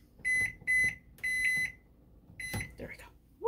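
Convection oven timer being set gives a series of short, shrill electronic beeps in uneven bursts, close and clear, with a few quiet noises after.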